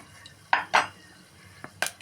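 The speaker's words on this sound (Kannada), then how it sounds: "ಈ ಥರ ಸ್ವಲ್ಪ ಎಣ್ಣೆಯಲ್ಲಿ ಫ್ರೈ ಆಗಲಿ." A spoon stirs ingredients frying in a little oil in a pan while menthya bath (fenugreek rice) is cooked, giving four short, close metallic clinks and scrapes over a faint steady hiss.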